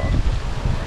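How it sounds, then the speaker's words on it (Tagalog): Wind blows outdoors, gusting in low buffeting rumbles against the microphone, loud and close for a brief moment. "Meron ng hangin dito."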